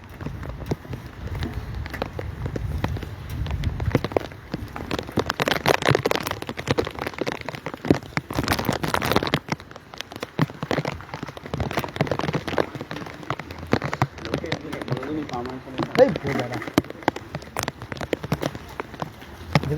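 Rain falling steadily on a flooded town street, a continuous wash of water noise with splashing and passing movement, loud and close throughout.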